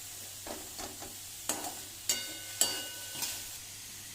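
Stirring in a pan while tempering asafoetida, salt, curry leaves and tamarind for carrot thogayal: quiet scraping strokes and soft bursts of sizzle repeat every half second or so over a faint steady hum.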